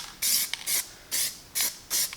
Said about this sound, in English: So just mist it on, nothing too thick.